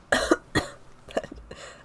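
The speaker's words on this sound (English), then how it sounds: "meant to sigh, but then I had a cough" Two sharp coughs close to the microphone in quick succession, followed by softer throat noises and a breathy exhale.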